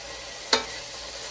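Elk meat browning in a pan for stew, with a constant close sizzle broken by one brief sharp scrape.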